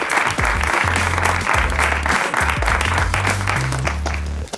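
A studio audience applauds to welcome a guest on stage, with steady loud clapping that runs the whole time under a faint low hum.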